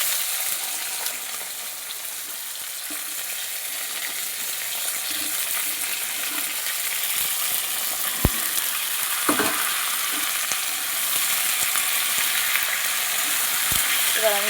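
Flat beans frying in hot oil with whole cumin seeds in a pan give a steady, dense sizzle from start to end, with an occasional sharp knock of a utensil against the pan.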